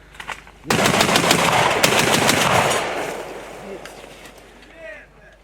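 Automatic rifle fire erupts during a night battle in Pisky: a long, loud, close burst of rapid shots lasting a couple of seconds, then echoing off, with faint voices before and after.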